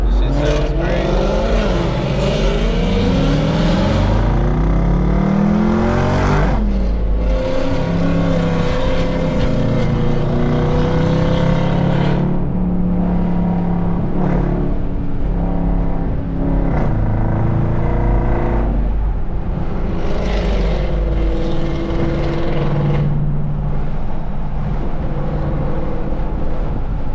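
Modified 5.0 car with headers and full bolt-ons revving loudly at a car meet, repeated throaty engine bursts rising and falling close by, with people talking in the background.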